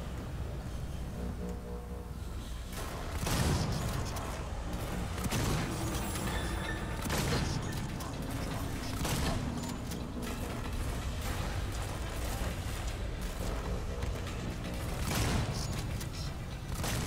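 Shotgun blasts in a video game boom out several times at irregular intervals, heavy and fairly close, over a continuous rumbling mechanical background with no one speaking.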